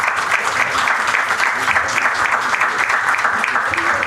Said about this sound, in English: Please give a big round of applause for our speakers.